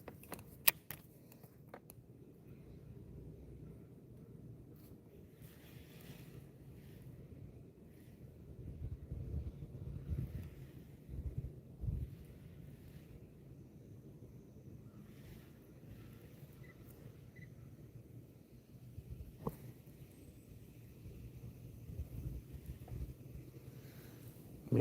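Wind gusting outdoors around a live angler near the water, a low rumbling buffet against the microphone that rises and falls in surges, with faint splashes and knocks and no talk.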